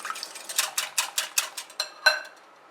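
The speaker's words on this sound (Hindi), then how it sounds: "इन सबको अच्छी तरह से मिक्स करेंगे।" A whisk or spoon beats eggs, oil, buttermilk and vanilla essence together for cupcake batter, about a dozen sharp, rhythmic clinks against a bowl, close and clear, ending in a louder knock.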